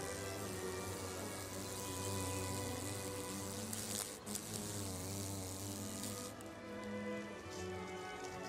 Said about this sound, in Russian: У некоторых насекомых взмахи столь часты, что они сопровождаются гудением, жужжанием и писком.